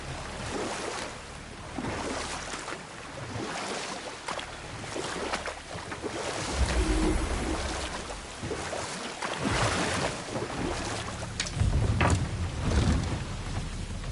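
Water surges and drains away with deep, rolling rushes and washes as a giant serpent rises in God of War, loud and turbulent, swelling in waves without talk.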